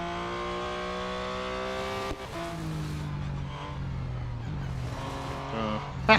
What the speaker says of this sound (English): Always accelerating too early and the car drifts.